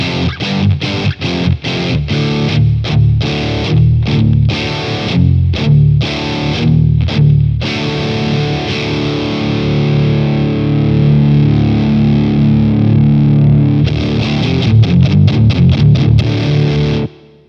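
Electric guitar through a Gokko GK-60 Salem boost pedal into a Boss Katana amp, distorted, plays choppy chugging chords and stops, then a long sustained ringing chord, ending in fast palm-muted strums.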